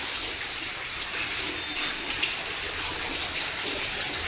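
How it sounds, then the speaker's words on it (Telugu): Rainwater pours steadily from a flooded roof terrace during heavy rain, a continuous dense splashing gush that holds an even level throughout with no talking. "డాబా కూడా నిండిపోయి కిందకు నీళ్ళు వస్తున్నాయి"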